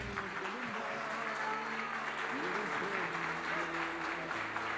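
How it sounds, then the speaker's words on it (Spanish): Audience applause at a political campaign presentation event in Rocha, a steady crowd clapping that fills the room continuously throughout. "fuerte aplauso para Jalil y Alejandro Elías."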